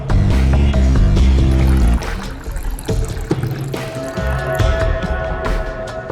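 Water is poured into a vessel in an office, a loud gurgling splash that rises in pitch as the container fills, followed by quieter trickling and clinks.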